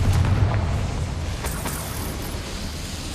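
A Confringo spell blast in Hogwarts Legacy, a loud booming explosion with a deep rumbling low end that decays over a few seconds into a sustained roar.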